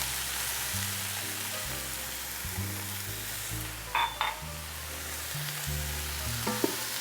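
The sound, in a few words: cumin and cinnamon frying in Instant Pot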